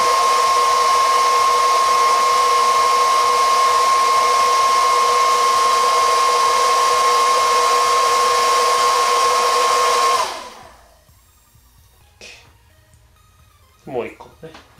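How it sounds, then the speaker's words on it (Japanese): A hair dryer blows steadily and loudly for about ten seconds, drying washed parts of a Shimano Calcutta Conquest fishing reel, then cuts off, leaving near silence with a few faint clicks and small handling noises. "ドライヤーで乾かす。"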